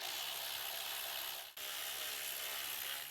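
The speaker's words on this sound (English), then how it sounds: "Let's go ahead and pull off our valve cover fasteners. There should be 5 10 millimeter bolts." Hand ratchet backing out 10 mm valve cover bolts on an Acura MDX engine: a fast, steady clicking ratchet close to the microphone, interrupted once by a brief pause, with no talk.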